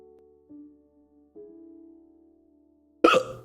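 A few soft tonal hums, then one sudden sharp hiccup near the end, close and abrupt against otherwise quiet surroundings.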